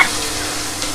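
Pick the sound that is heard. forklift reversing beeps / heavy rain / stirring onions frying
stirring onions frying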